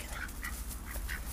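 A pet duck, followed by a young Weimaraner–Malinois dog, gives about four short nasal quacks in quick succession, close and moderately loud over light background noise.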